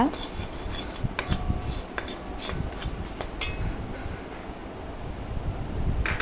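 Ground black pepper and turmeric powders are stirred in a pan for a prawn and date pickle, giving a steady, close, gritty scraping that runs throughout without talk.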